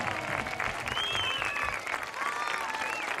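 Applause at a school charity event for the TV3 Marató in Terrassa: a crowd claps steadily at moderate level, with cheers and a few voices rising faintly above the dense clapping.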